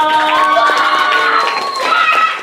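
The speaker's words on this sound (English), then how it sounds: "Give all four a big round of applause." An audience at a school Revolutionary War presentation cheers loudly, with high children's voices shouting together in a continuous, close burst.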